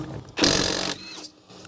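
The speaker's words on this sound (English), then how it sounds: "let's see if it'll break this lug nut loose with this little impact socket" A compact Milwaukee 3/8-inch cordless impact wrench with an impact socket breaks a lug nut loose in one brief, loud rattling burst of about half a second, then quiet.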